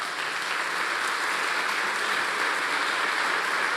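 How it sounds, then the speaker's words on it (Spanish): A church congregation claps steadily in sustained, dense applause of gratitude and praise during a Spanish-language sermon, the broadband clapping filling the space without pause. "¿Quieres darle un aplauso de gratitud, de alabanza?"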